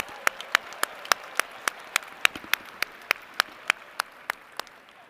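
Sparse, sharp hand claps ring out in a steady rhythm against a quiet background at a UW-Madison winter commencement, more like a few people clapping than a full cheering crowd.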